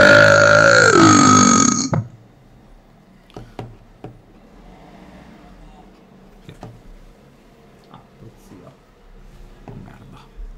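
A loud, drawn-out burp opens, roughly two seconds long with a falling pitch, then gives way to quiet room noise with scattered faint knocks and clicks.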